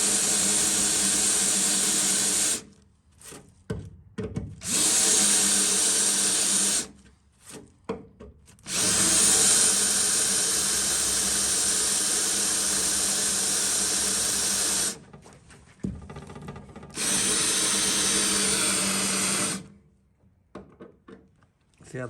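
Power drill cutting through a rusty weld, bursts of steady high whine lasting several seconds each, separated by short pauses, loud and close.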